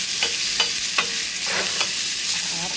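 Onion, green chili and garlic with cumin seeds frying in olive oil in a small steel kadai, a soft continuous sizzle with several light taps and scrapes of a spatula at a relaxed pace.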